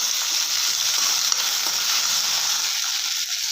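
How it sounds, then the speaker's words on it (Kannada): Chopped tomatoes fry in hot oil in a pan with a steady, bright sizzle throughout and a faint stir clink, no voices. "ಟೊಮೊಟೊ ಮೆತ್ತಗಾಗೋವರೆಗೆ ಹುರ್ಕೊಳ್ಳೋಣ."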